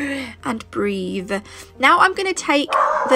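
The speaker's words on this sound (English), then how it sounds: "That's my dog." A pet dog barks and yips in loud, short bursts indoors at a nail-painting table, interleaved with someone talking close by.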